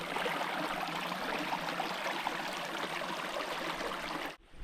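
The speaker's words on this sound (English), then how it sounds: "Nice little creek here, and so there's a water source point if you need it." A small creek runs with a steady, close rushing and babbling flow that continues evenly and then cuts off abruptly near the end.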